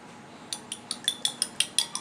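Eggs beaten with a spoon in a bowl for an egg pudding, a run of quick bright metallic clinks tapping at an even rhythm, close up and alone.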